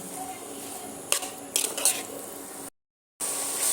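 A spoon scrapes and clinks against a pan while coconut filling for puli pitha is stirred, with soft frying sizzle underneath and a few sharper metallic scrapes before a brief silent gap.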